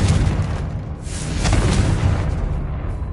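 A Confringo spell explosion in the Hogwarts Legacy video game lands as a loud, booming burst with crackling debris, followed by a second blast about halfway through, rumbling close with no speech.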